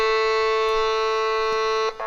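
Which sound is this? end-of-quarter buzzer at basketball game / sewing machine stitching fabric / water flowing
end-of-quarter buzzer at basketball game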